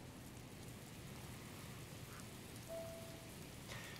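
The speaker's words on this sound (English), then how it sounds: "It's raining." Steady rain hisses down in Zelda: Breath of the Wild, a dense, even wash of falling drops with a faint distant rumble of thunder and a few soft game chimes.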